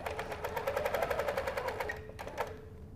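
A sewing machine quilting with a 360 Wonderfoot hopping foot chatters in a fast, even rhythmic stitching pulse close by, briefly pausing before resuming, with no talking.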